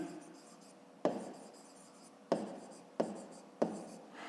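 Hand writing on paper during a fifth-grade math exercise, close scratchy pen strokes with four sharp taps as the pen touches down, each followed by fading scribble.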